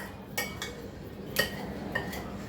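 A spoon clinking against a bowl while stirring oil, garlic and tomato paste into a sauce, a few sharp taps spaced apart over soft scraping in a quiet kitchen.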